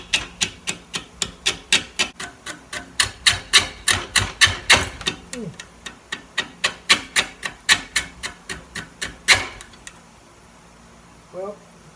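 Chipping away at a block of mesquite wood for a pedestal vessel, a steady run of sharp, close knocking strikes in rapid rhythm for about ten seconds, then near silence with one faint later tap.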